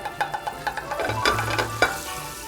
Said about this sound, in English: I have a non-stick pan over about medium to high heat. So we're gonna add a small amount of butter.